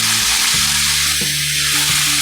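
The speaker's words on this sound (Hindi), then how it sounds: "आखिर में ये बंद गोभी बरीक कटिंग डाल देंगे" Finely chopped cabbage sizzles loudly in a pan with onion for pasta, a dense continuous frying hiss with a few soft knocks as it settles.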